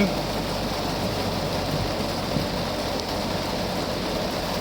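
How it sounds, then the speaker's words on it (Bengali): Heavy rain pours down at Kochukhet in Mirpur, a dense, steady roar of falling water with no breaks over a few seconds. "কি বৃষ্টি দেখেন, অনেক বৃষ্টি, অনেক প্রচুর বৃষ্টি"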